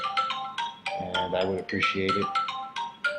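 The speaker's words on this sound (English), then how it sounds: "Excuse my phone." A mobile phone ringtone plays a bright, repeating electronic melody in short regular bursts, close and fairly loud, with someone speaking briefly over it.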